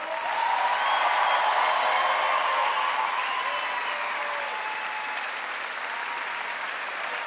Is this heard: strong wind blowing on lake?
no